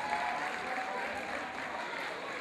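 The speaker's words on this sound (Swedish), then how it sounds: "ge honom en applåd" Audience applause fills a live concert at Pay it Forward Day 2013, a steady, dense wash of clapping and crowd noise holding at an even level throughout.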